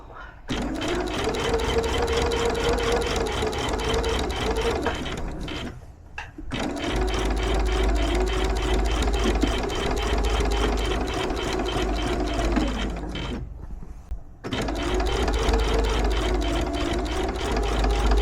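A sewing machine runs steadily, stitching a reinforcing seam across fabric bag straps. It sounds as a close, loud, continuous whirring hum in three long runs split by brief pauses.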